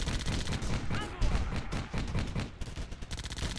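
A tank fires back during a WWII tank battle near Moscow in the Theatre of War video game, a rapid burst of dense, rumbling gunfire blasts packed closely together, loud and continuous with uneven punchy peaks.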